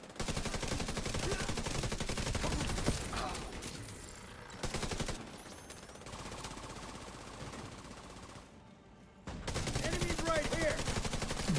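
Gunfire in the shooter The Division 2, long stretches of rapid automatic fire in dense overlapping bursts, with brief lulls between them, fairly close and loud.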